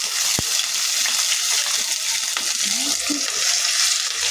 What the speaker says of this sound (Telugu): మిర్చి అన్నీ కలిపి వేసేద్దాం, ఫ్రై చేద్దాం.